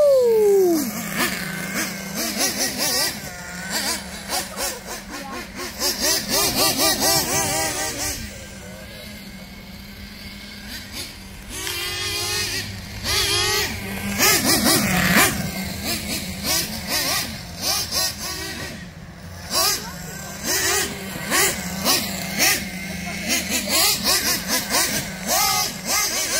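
OFNA Twin Titan RC monster truck with twin nitro engines revving in bursts, high buzzing whines rising and falling repeatedly, with voices talking intermittently over the engine noise.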